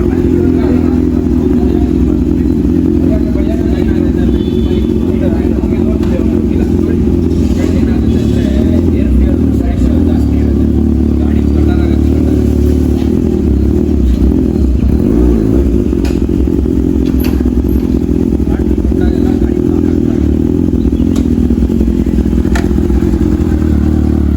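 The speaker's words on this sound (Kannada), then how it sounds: "ಸೊ ಗಾಡಿ ಆಚೆ ಬರ್ತಾ ಇದೆ ಬೀಸ್ಟ್ ಗರಾಜಿಂದ" A Kawasaki ZX6R motorcycle rolled out of a garage, its engine running loud and close throughout with steady rumbling, some clatter and thumps, while a voice talks over it.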